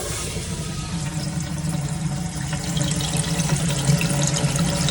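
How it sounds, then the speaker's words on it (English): Water from a newly connected supply to a cabin toilet runs and fills steadily, a continuous hiss and gurgle over a low pump-like hum that grows slightly louder partway through, with no voices. "I'm gonna turn the water on."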